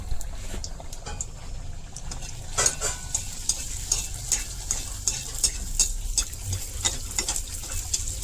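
Fuchka puris deep-fry one at a time in well-heated oil, giving a continuous close sizzle dotted with rapid sharp crackles and pops throughout, with no voices.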